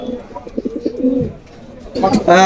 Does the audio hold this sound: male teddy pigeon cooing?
yes